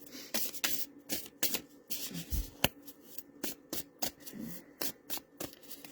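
Playing cards being handled and scattered during a reading: quick papery flicks, slaps and shuffling rustles in an irregular stream, close and soft, with a low thump partway through.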